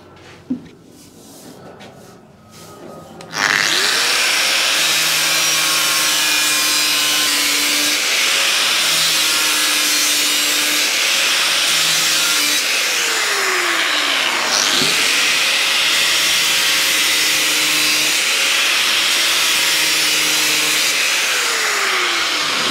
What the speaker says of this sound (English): Now what I normally do now is go over again with the grinder, but really slow.